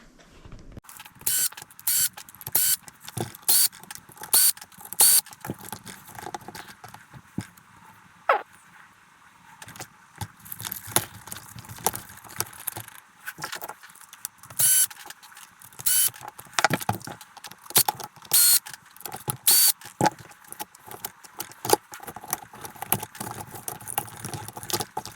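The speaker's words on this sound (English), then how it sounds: "But we'll see what happens when I start taking all the screws out." Screws being removed from an RC4WD transmission and motor assembly, a long run of small, irregular metallic clicks, taps and scrapes of a driver and loose parts, close and fairly quiet.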